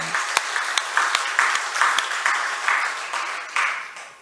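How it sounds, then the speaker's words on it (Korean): A church congregation clapping together in a steady rhythm, one sharp clap at the start followed by even, regular group claps about twice a second, moderately loud in a reverberant hall. "우리 주님께 영광의 박수 드리겠습니다."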